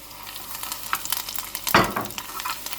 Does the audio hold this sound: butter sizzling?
yes